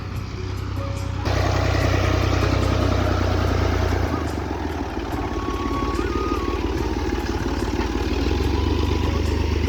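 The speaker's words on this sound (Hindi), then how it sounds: "हम ट्रैक्टर की मदद से यहाँ से हम लेके आ रहे हैं" A tractor engine hauls loads across a high-density mango farm in a Pakistani village, running steadily with a low, continuous rumble and some clatter throughout, sounding close and fairly loud.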